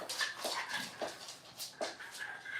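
A dog whimpers and yips repeatedly while chewing a bone, a series of short, high whiny cries close by and fairly faint, with no talking over them.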